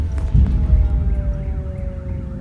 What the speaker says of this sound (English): the air raid sirens kept sounding every second hour